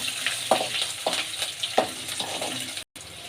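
Green chillies sautéing in hot oil with mustard seeds, urad dal and chana dal, a loud continuous sizzle with sharp spatter pops and stirring scrapes, no talking.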